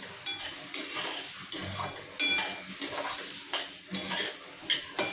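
Coarse semolina dry-roasting in a pan for upma, stirred with a metal spoon that scrapes and clinks against the pan in repeated strokes about every half second over a faint crackle, no voices.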